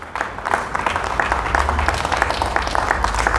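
An audience claps steadily throughout, a dense sustained round of applause at a gathering to honour Vinod for completing a PhD in finance.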